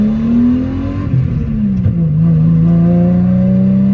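A Subaru SVX engine drones loudly up close, its pitch rising and dipping as it revs under steady acceleration, with no talking.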